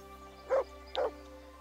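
In the video game Kingdom Come: Deliverance a dog gives two short, moderately loud barks about half a second apart over a quiet, steady background hum.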